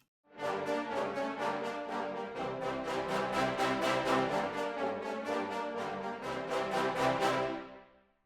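Two tenor trombones and a bass trombone play marcato in a modern mix, a run of punchy, evenly spaced accented brass chords that ring full and close, with no talk over them.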